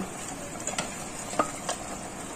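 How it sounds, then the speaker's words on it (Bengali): Fried lote fish pieces are added to a simmering curry. A low bubbling hiss runs throughout, with a few soft clinks and stirring scrapes from utensils against the pan. "এবার আমি এই মাছ ভাজাগুলোকে দিয়ে দেব।"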